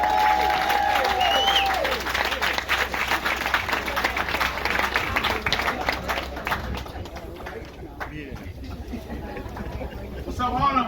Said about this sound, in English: Please make a big round of applause for our public advocate, Mr. Jamani Williams.